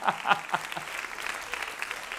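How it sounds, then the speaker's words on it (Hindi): A live audience at a Hindi satirical comedy show claps in a few sharp bursts at the start. The clapping then fades into a softer, scattered patter. "दोस्तों, एक बार तालियां होनी चाहिए इन मोदी जी के लिए।"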